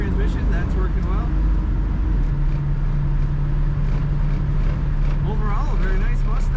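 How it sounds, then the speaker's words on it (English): A 1966 Ford Mustang convertible with automatic transmission kicks down and accelerates, its engine a loud, steady low rumble with a rising drone through the middle, heard from inside the car while a voice talks over it. "Kicking down on that automatic transmission, that's working well."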